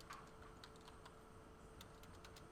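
Quiet, quick keystrokes on a computer keyboard tap out in an uneven rhythm of several clicks, faint and close, over a low background hum.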